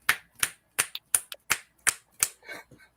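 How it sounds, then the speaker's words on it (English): Roughly eight crisp finger snaps in a steady, unhurried rhythm, close and dry with nothing else sounding, like keeping time at a jazz club. "That's what you snap your fingers."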